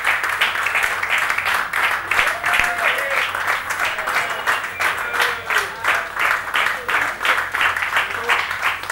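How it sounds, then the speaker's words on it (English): Audience applause for an Asian Games gold medalist at a felicitation event, sustained steady clapping from a sizeable crowd throughout, with a faint voice calling over it. "he deserves much louder applause"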